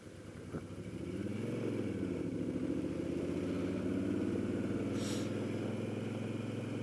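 A 1999 Moto Guzzi California V11EV being ridden, its engine a low, steady throbbing drone that builds in the first second and then holds an even, moderately distant rumble.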